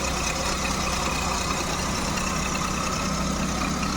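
A Maruti Suzuki 800 MPFI car with air conditioning idles, heard from its engine bay as a constant, even rumble with a fine mechanical whir, alone and unchanging throughout.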